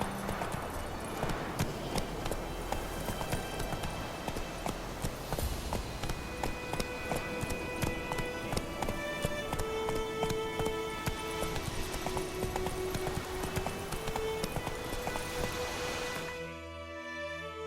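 Roach the horse galloping in The Witcher 3, a steady rhythmic run of hoofbeats under game music and ambience, continuous and fairly close throughout before cutting off near the end.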